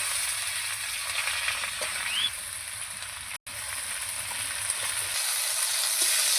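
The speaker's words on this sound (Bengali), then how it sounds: "এবার আমি আলুর সঙ্গে কুমড়ো শাক কষিয়ে নেব।" Pumpkin greens are sautéed with reddish fried potatoes in a pan, a steady close sizzling hiss with faint stirring scrapes and a brief dropout midway.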